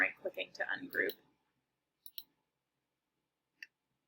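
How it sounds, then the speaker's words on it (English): A computer mouse gives a few sharp, quiet clicks in a still room, a double click followed by a single one. Someone speaks briefly just before them. "clicking on it with the left clicker, and then right-clicking to ungroup."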